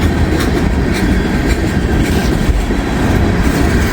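A freight train rolling past a railroad crossing, loud and close, with a continuous heavy rumble and rhythmic clickety-clack of wheels over rail joints throughout.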